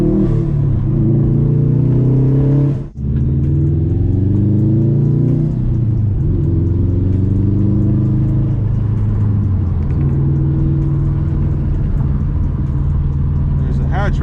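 A 2004 Subaru WRX STI rumbles deep and steady through its subtle exhaust while driving, rising and falling with revs; one brief dip, otherwise continuous and close.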